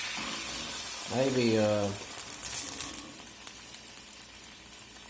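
A splash of white wine hits a hot pan while pan-searing salmon, letting out a loud burst of sizzling that fades into softer crackling; someone talks briefly over it.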